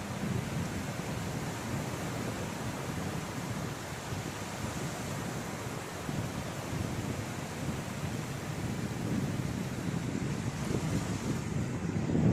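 Wind and sea waves on the beach at Bakkhali: a continuous roar of surf and gusting wind buffeting the microphone, loud and steady throughout with no voices.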